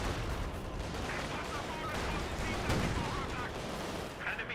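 Booming Pak 40 anti-tank gun shots in the Company of Heroes 2 battle game, dense overlapping blasts and rumbling fire in a loud continuous wartime din.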